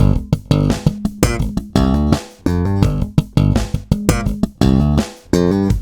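Stomp-style slap bass line at full speed: loud, punchy slapped and popped notes in rapid staccato bursts, bright percussive attacks over deep thumping lows, played solo without voices.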